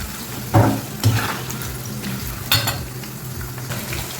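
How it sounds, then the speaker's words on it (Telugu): Bitter gourd pieces frying in oil in a pan, added a little at a time; a steady sizzle with a few sharp metallic scrapes and stirring knocks from a spatula against the pan, close up and without talk. "అన్నీ ఒకేసారి కాకుండా కొంచెం కొంచెం వేసి వేయించుకోండి"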